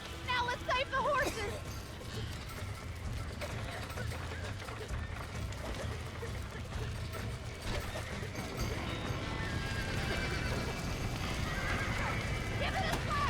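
Red Dead Redemption horses whinny and neigh several times over rapid clip-clopping hooves, set within a busy, continuous game soundscape.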